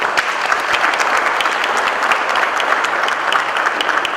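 An audience at a training class claps for a presenter, dense continuous applause from many hands, steady and fairly close throughout.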